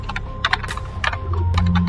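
Keyboard typing while entering an internal link in HTML code, a run of quick clustered key clicks close to the microphone over a steady low background hum, with no talk.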